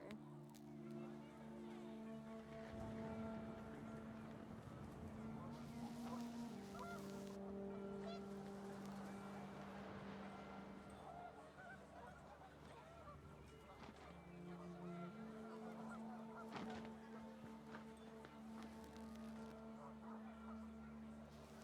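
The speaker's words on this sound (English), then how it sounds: "panicked geese appeared and quickly went" Panicked geese honk in the video game What Remains of Edith Finch, a cluster of harsh, overlapping calls over wind and ambient game sound, sustained tones rising and falling for about twenty seconds.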